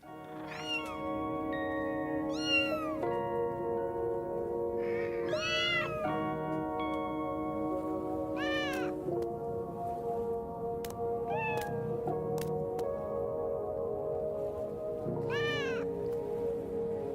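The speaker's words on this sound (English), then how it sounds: "He has various cats." Cats in Final Fantasy XIV meow repeatedly, clear and fairly close, with several separate drawn-out mews spread over steady background music and no talking.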